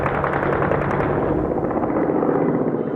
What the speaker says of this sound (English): Occasional gunfire rips through the air.